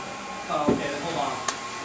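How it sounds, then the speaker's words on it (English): A hair dryer runs in a salon, giving a continuous broad whooshing roar throughout while hair is blow-dried. Faint voices and brief handling noises sit under the steady airflow. "Go ahead and just kind of power dry some of the rest of this"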